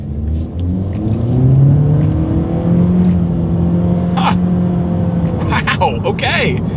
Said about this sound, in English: let's do a quick little acceleration, and let's see how quickly we can get this new 2020 Honda Accord here up to speed